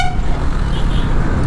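A Bajaj Pulsar NS200 motorcycle horn sounds as one steady, loud, continuous toot held close by, with no pauses or talking.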